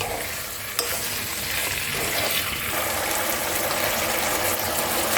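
Mutton pieces stirred with spice mix in a hot pan for a saffron mutton korma, a steady scraping stir over continuous close sizzling frying with no talk.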